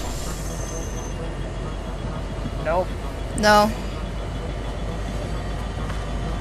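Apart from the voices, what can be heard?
train moving in the video game Fortnite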